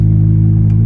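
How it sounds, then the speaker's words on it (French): The combustion engine of a Volkswagen Golf GTE plug-in hybrid with a Stage 1 tune runs with a loud, steady, deep rumble. The low drone holds even throughout, with no speech. "si tu passes en thermique, ben voilà, t'as le moteur qui démarre"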